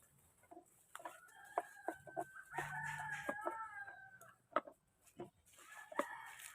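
Several chickens cluck and squawk nearby in short, irregular bursts, with quiet pauses between calls.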